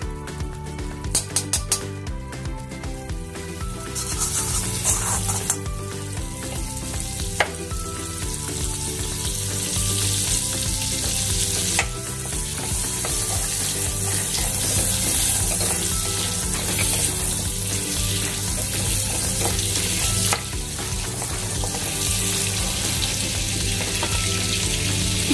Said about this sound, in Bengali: কড়াইয়ের মধ্যে ফার্স্টে বাটার দিয়ে দিলাম,